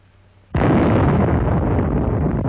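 A nuclear bomb test blast wave from a test shot in a forest area, arriving as a sudden loud boom after near silence, then a sustained heavy rumbling roar that holds steady to the end.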